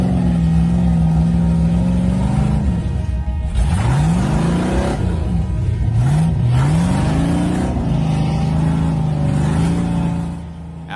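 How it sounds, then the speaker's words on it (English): A truck struggles up a slope, its engine loud and close, revving in repeated rising and falling surges while the tires spin with a continuous whirring roar. "The tires spin, the engine growls,"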